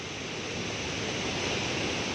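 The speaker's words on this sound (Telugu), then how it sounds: "చూడండి ఎంత ఇదిగా పోతున్నాయి నీళ్ళు" Water pours through a single open gate of Somasila dam on the Penna river, making a dense, continuous roar that stays loud and unbroken from start to finish.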